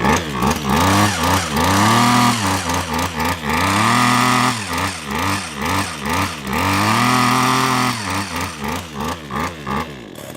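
A small two-stroke engine run on cooking oil in place of two-stroke oil revs repeatedly, rising and falling in quick bursts with brief steadier holds, close and loud, with no talking.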